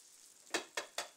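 Flat iron steak sears in a hot pan, a faint continuous sizzle broken by three sharp crackling spits in quick succession, close and alone without any voices.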